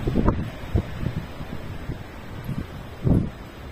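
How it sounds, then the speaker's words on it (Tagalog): Strong wind buffets the microphone on an exposed mountain peak during a morning hike, coming in rough gusts and rumbling thuds, loudest near the end. "Grabe po kahangin."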